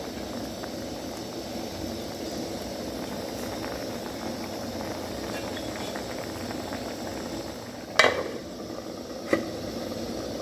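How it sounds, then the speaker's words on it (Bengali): Fried rohu fish is added to a simmering potato and tomato curry, producing a soft, steady bubbling hiss, with a sharp clatter of a utensil and a second smaller knock near the end. "এবার মাছ ভাজাগুলো দিয়ে দেবো।"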